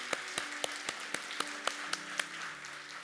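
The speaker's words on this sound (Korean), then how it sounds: "우리 하나님께 감사의 박수를 드리겠습니다." A church congregation clapping together during a Sunday worship service, steady in-time beats roughly every quarter second, moderately loud over a continuous room hum.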